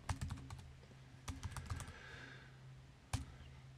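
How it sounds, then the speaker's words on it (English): Keys clatter on a computer keyboard in quick bursts of close taps, pausing briefly before a final sharp keystroke, with no voices. "typing in the full path"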